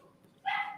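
A person imitates a dog barking with one short, fairly loud yip-like bark over a quiet background.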